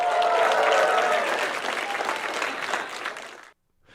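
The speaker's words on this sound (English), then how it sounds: "And applause." An applause sound effect: a burst of crowd clapping, full at first, tapering off gradually, then cutting to silence near the end.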